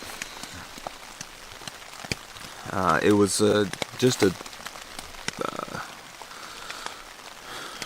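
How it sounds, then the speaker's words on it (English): Light, steady rain falls all night on a wilderness hiking trail, a soft constant patter under a voice, which briefly rises louder in the middle. "not a drizzle, but a real light rain all night"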